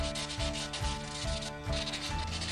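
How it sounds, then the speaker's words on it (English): Sandpaper rubs back and forth over a metal axe head being polished, a steady rasping scrape in even strokes about three per second, close and alone. "I use this 80 sanding paper, 150, the 400 and the 600 for sanding and polish the metal."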